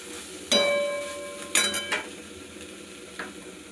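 Drumstick flower curry with a spoonful of raw mustard oil is stirred in a pan, a few distinct scraping and clinking strokes of the spoon over a soft background sizzle, close by.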